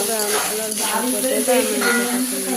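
Chopped onion fries in a hot pan, browning with a steady sizzle and occasional stirring, heard close and continuous under a person's voice.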